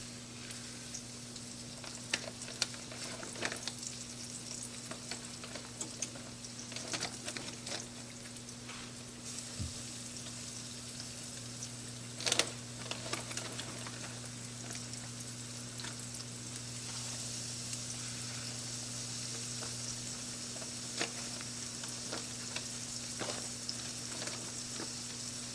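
Chicken frying in hot oil over medium heat, a steady broad sizzle that runs the whole time with a few sharper crackles and pops, close and fairly loud, no talking.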